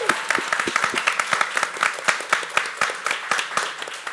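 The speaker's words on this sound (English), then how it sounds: "And applause for Eelika." Audience applause for a woman at an evening event in Estonia: steady, dense clapping from a crowd, close and lively, filling the whole stretch without a break.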